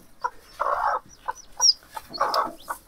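A hen sitting on a clutch of hatching eggs gives short, low clucks and grumbling calls in close, irregular bursts, with a faint chick peep.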